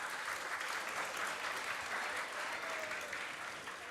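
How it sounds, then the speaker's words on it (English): Applause from an audience at a youth workshop against drugs, a steady, dense patter of many hands clapping throughout, fairly distant and even in level with no talk over it. "they deserve a bigger round of applause,"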